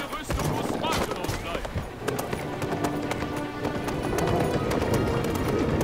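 Rapid hoof clip-clops from a running horse in King's Quest, with a voice talking over the busy, loud mix.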